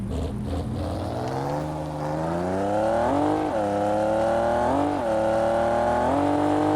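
Honda NSX with a VTEC engine in the Car Parking Multiplayer game revs hard, its engine note climbing steadily through gear changes to a sharp high-pitched scream, loud and close.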